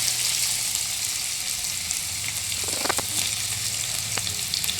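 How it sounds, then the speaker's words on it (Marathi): Finely chopped onion frying in oil with caraway, bay leaf, black pepper and cloves, a continuous bright sizzle with brief crackling spurts around the middle, close up and unaccompanied by speech. "शहाजिरा तमालपत्र काळी मिरी आणि लवंग टाकून घेतलेलं आहे आता यामध्ये आपण बारीक चॉप केलेला कांदा टाकलेला आहे"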